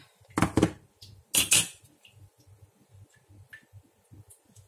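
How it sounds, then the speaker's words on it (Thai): Metal lid set onto a small cooking pot in a home kitchen while vegetarian Thai gaeng liang soup is made, giving two sharp clattering clanks close up, then light ticking and clinking under a quiet background. "ขอปิดฝาแป๊บหนึ่งนะ"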